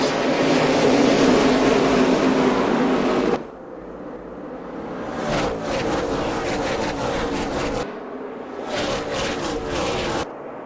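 Stock cars roaring off at the start of a Subway 500 race in a racing video game, a loud dense engine roar that drops abruptly, then pulses with passing engine surges.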